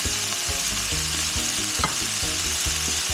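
Soy sauce added to a sweet and sour sauce sizzling in a pan: a loud, steady frying hiss up close with repeated rhythmic scraping stirs throughout, and no talking.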